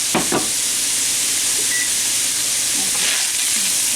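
Vegetables go into a hot pan for a cheeseburger skillet dish and fry with a loud, close, continuous sizzle and hiss, with a couple of knocks at the start and brief spoon scrapes.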